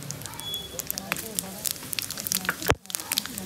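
Mustard seeds sputtering in hot oil for a tempering, with scattered sharp crackles and pops over a soft sizzle, mixed with a voice talking and a brief louder knock near the end.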